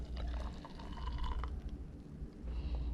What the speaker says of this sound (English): we're going to take our coffee, hashtag Coffee Life mug, and our broth, and we're going to pour